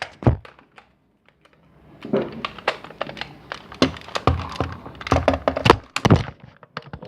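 An unloaded gun is handled and cocked close by, giving a quick series of sharp mechanical clacks and thunks, with one isolated click first, then a dense burst of clicks after a brief pause.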